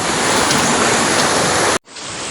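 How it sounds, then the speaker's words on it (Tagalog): Rushing water from a creek near rice paddies, a loud, dense, continuous hiss that fills the whole clip before cutting off abruptly near the end. "Ito yung sapa mga idol oh."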